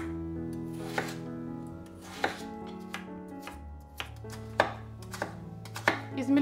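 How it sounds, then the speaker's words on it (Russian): A kitchen knife cuts two potatoes into small cubes on a cutting board, making sharp, close knocks at an uneven pace of about one every second, with no talking. "А теперь я беру 2 картофелины и нарезаю небольшими кубиками."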